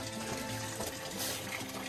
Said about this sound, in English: That's still draining into the sump pump.